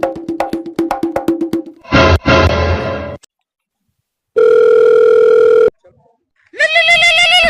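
Telephone sounds in bursts: rapid chirping rings, a harsh buzzing tone, a long steady dial-like tone, then a warbling ring, each loud and close with short silences between.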